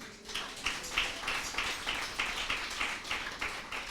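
A church congregation at a Telugu Christian service claps in a steady rhythm, about two claps per second, loud and sustained, with no speech over it.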